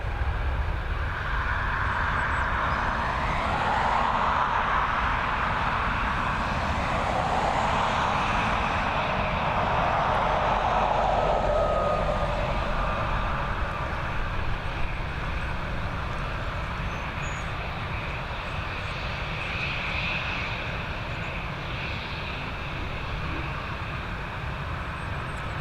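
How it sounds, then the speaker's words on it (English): Airbus A320neo jet departing Dublin Airport on a cold night, a steady distant broadband roar that swells slightly then holds, continuous throughout with no talk. "there is the A320neo heading out of Dublin"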